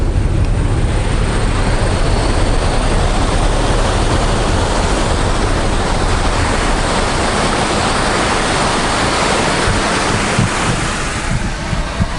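Water rushing over the Little Annan Bridge on a Cooktown trip, a broad constant roar mixed with heavy wind buffeting, steady and loud throughout.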